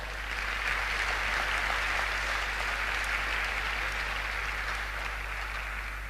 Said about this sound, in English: let's have a last cheer, a big round of applause for all of those partners